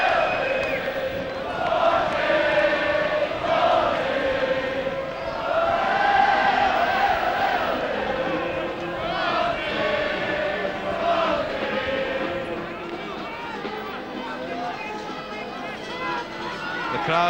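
A rugby crowd at a Pontypridd versus Swansea match sings in support of Pontypridd, a broad sustained chorus of many voices rising and falling, with a band joining in and general crowd noise around it.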